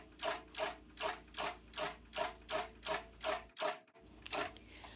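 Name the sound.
sewing machine stitching along quilt top edge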